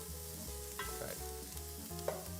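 Onions sizzle steadily in a pan for chicken noodle soup, a continuous frying hiss with faint stirring scrapes and no voices.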